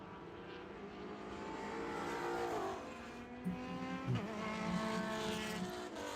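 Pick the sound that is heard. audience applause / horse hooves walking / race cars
race cars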